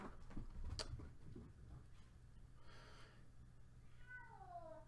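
A domestic cat meows faintly a couple of times in the background, rising and falling calls near the end over a steady low hum.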